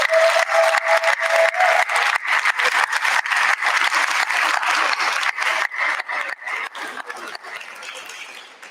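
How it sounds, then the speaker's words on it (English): A large crowd at a law school graduation ceremony applauds with dense, sustained clapping that fills the hall, slowly thinning and fading toward the end. "I think y'all ought to give them a round of applause"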